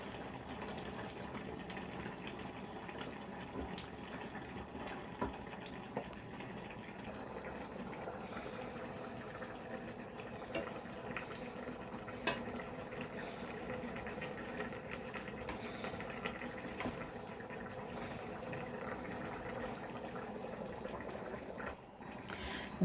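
A fish stew with mixed pepper sauce cooks in oil in a pot, giving a soft, steady bubbling and sizzle that continues quietly throughout.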